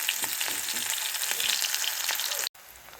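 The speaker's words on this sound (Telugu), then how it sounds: "ఉల్లిపాయ అయితే వేగిందండి." Onions sizzle in a pan for a ridge gourd curry, a steady close crackling fry that cuts off abruptly near the end.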